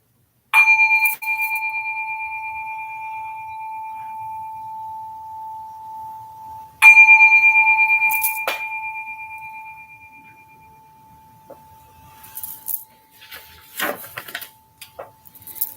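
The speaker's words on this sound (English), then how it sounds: "The bell will ring twice to end the meditation." A Buddhist meditation bell rings twice to close a meditation session: two clear, sustained metallic strikes several seconds apart, each decaying slowly, followed by faint rustling and movement noises as the room stirs.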